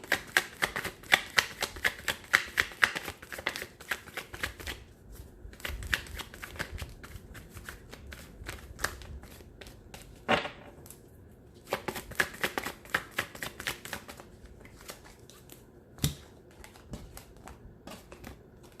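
Tarot cards shuffled close up, with rapid crisp riffles and flicks in long runs broken by brief pauses and a few sharper snaps, without speech.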